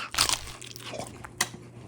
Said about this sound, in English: listen to the crunch on this